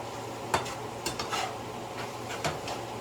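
Ground meat browning in a pan for empanadas gives a steady, close sizzle broken by a few sharp clicks and scrapes of a utensil stirring against the pan.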